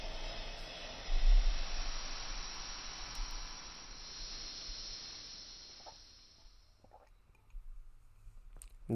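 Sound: waterfall in Link's Awakening video game

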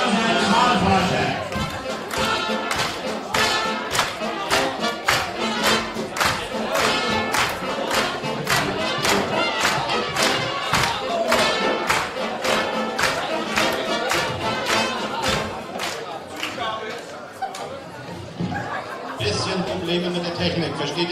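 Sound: audience applause for the election researcher

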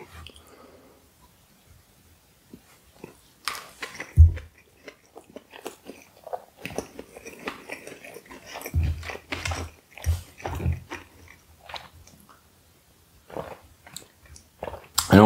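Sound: chewing sushi rolls with raw fish

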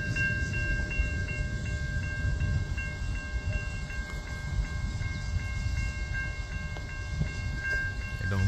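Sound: freight train led by ATSF warbonnet locomotive with GEVOs

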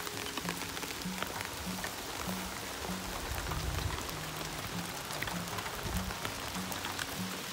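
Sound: rain falling in the garden

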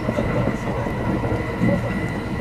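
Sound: limited express Thunderbird train passing through a station

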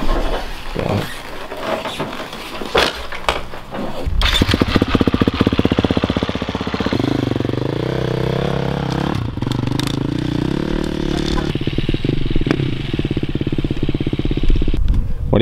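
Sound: race motorbike engine running

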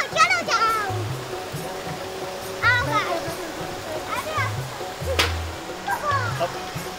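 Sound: spring water flowing at Bhagsu Nag temple

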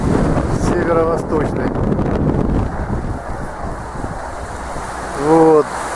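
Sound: light northeast wind at the beach

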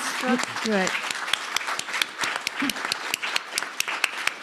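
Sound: audience applause at a wine tasting seminar

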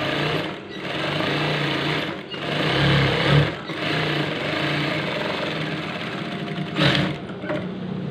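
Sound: sewing machine stitching a PDH shirt collar

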